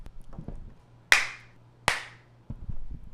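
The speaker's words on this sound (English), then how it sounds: "let me do a clap track" Two sharp, separate hand claps ring out close and loud against a quiet room, each with a brief echoing decay.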